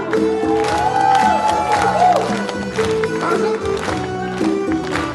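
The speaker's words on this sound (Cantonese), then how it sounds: "掌聲大聲點好不好？" A concert crowd at a Cantonese singer's show claps and cheers loudly and continuously, with whoops and shouts rising through the applause.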